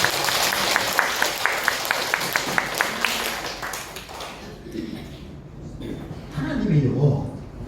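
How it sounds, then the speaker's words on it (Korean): A church congregation claps together in a steady, rhythmic applause for several seconds, followed by someone speaking over a quieter room. "우리 하나님께 영광의 박수 한번 올려드릴까요?"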